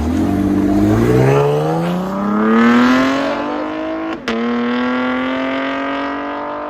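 A 2018 Chevy Camaro RS V6 with a Borla ATAK dual exhaust revs close by. The engine note climbs steadily through a long rev, dips, then rises again with a throaty, sustained exhaust tone.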